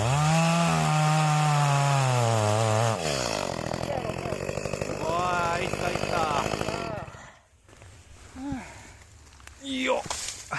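A chainsaw cuts firewood from a felled tree in the winter countryside, the engine loud and close as it revs and bogs through the log before cutting off, followed by quieter sounds and talk.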